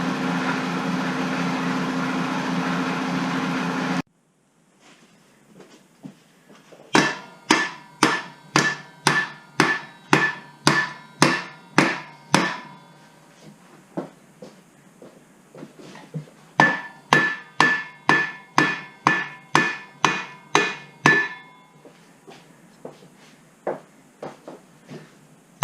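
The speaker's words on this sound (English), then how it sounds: "having to use a plastic hammer, which gives it more of a shock" A plastic hammer strikes a part on a Kawasaki KZ400 motorcycle being stripped for a street tracker build, about twenty sharp, loud knocks in two quick rhythmic bursts after a brief steady noise, with no talk.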